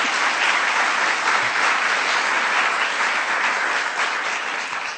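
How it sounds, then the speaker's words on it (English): A room at a White House event on domestic violence breaks into steady, dense applause for Health and Human Services Secretary Kathleen Sebelius, holding evenly for several seconds and easing slightly at the end. "Kathleen, stand up, take a round of applause."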